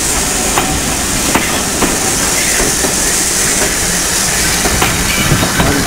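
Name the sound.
steam train passing on the North Norfolk Railway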